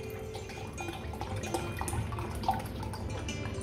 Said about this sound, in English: So to this I'm going to add some chill water,